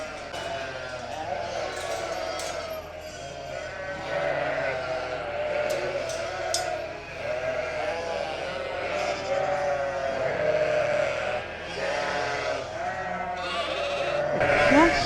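Sheep bleat over and over inside a barn, a dense, overlapping chorus of many animals close by, continuous across the whole stretch with rustling and movement beneath.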